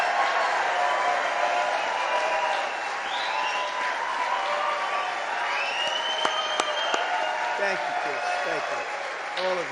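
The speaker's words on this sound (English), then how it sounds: "Please applaud me." A crowd at a 2024 presidential campaign announcement applauds in a broad, steady wash of clapping and cheering, with scattered whistles and voices rising above it.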